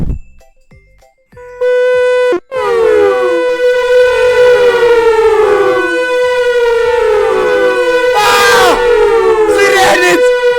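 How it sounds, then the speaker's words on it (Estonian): Wailing civil-defense-style siren in the MyVoiceZoo zoo game, rising and falling loudly over several seconds with layered harmonic sweeps, after a short musical jingle, and a few brief noisy bursts near the end. "Sireenid! Nad tulevad!"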